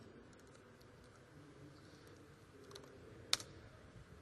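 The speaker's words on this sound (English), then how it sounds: "let's type debugging" Quiet typing on a computer keyboard, a few soft, scattered key taps over a low background hum, ending with one sharper click.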